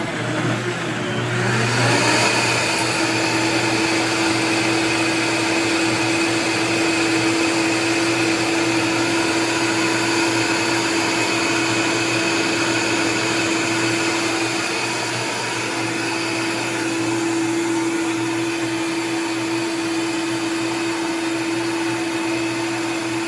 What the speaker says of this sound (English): Now my blender is really, really strong and really, really loud.